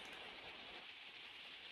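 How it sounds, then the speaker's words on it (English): Early-morning rain falls steadily outdoors in Somerset, UK, a soft continuous hiss at low volume with no voices. "I can hear rain."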